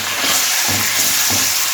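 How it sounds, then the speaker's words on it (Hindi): Chicken liver frying and being stirred in hot oil, a steady dense sizzle with a few louder scraping stirs along the way, close and continuous. "पहले हम इसको ऑयल में फ्राई करेंगे ताकि ये अच्छी तरह गल जाए"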